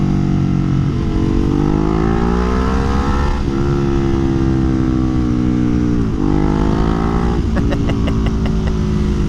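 A motorcycle fitted with a slip-on exhaust runs hard on a dyno, its engine revving up in repeated pulls with loud, rising harmonic tones that drop and climb again, ending with rapid rhythmic popping.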